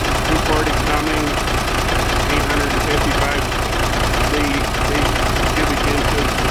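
240 Cummins diesel, 855 cubic inches, in a 1983 single axle International truck, idling with a loud, steady, close rumble and clatter throughout.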